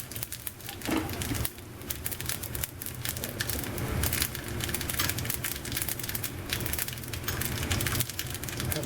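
Dried red chillies and curry leaves dropped into hot coconut oil with mustard seeds, a dense continuous crackling sizzle with popping spatters throughout, close and moderately loud.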